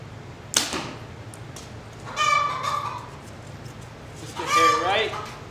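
An arrow is loosed from a bow outdoors with a sharp snap and thud near the start, followed by two bursts of nearby animal bleating or clucking.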